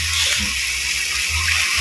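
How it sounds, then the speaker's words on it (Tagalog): Water pours in a steady stream into a pan of cooking cabbage, a loud, continuous splashing gush close by, with no speech. "lagyan po natin ng kaunting tubig"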